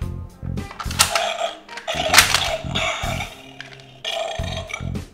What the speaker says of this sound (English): the T-Rex actually burps.